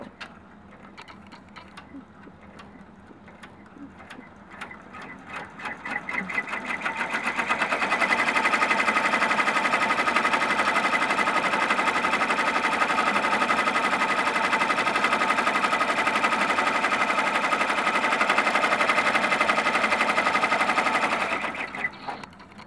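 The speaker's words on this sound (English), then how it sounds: "You see it has stitched out in black thread the left portion of the pumpkin." Embroidery sewing machine stitching a pumpkin patchwork design in black thread on black fabric, starting with quieter ticking and then settling into a loud, fast, steady mechanical whirr that runs for about fifteen seconds before stopping.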